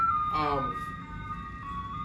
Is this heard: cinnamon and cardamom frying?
no